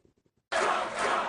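A crowd at Karen Handel's election victory speech erupts into loud cheering and shouting right after a brief, faint bit of speech, the roar holding steady.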